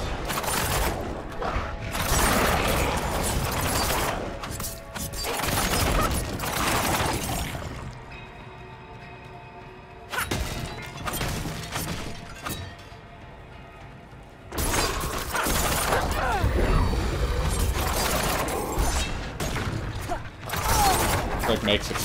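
Explosions triggered by a buff in the video game Diablo IV, dense crashing bursts and mechanical clatter filling long loud stretches with brief quieter gaps, close and continuous, with game effects layered throughout.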